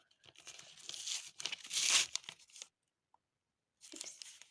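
Crinkly plastic being torn and crumpled in bursts, loudest in the middle, then a pause before a final short rustle.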